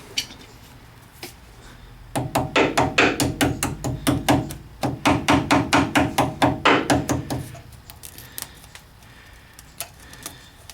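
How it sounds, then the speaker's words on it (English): A hammer taps in quick, even bursts of metallic strikes on a Toyota Tundra rack under repair, two runs of rapid blows close by, then scattered lighter knocks. "A little more hammer, we can go tappy tap."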